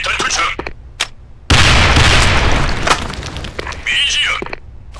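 A grenade blows up in an online multiplayer shooter game: a sudden loud, broadband blast that holds and rumbles for over a second, set between sharper gunfire-like pops and other battle sounds.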